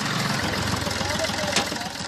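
A Chevrolet Beat engine idles steadily with a low, even rumble and faint rhythmic ticking, heard up close and continuous throughout.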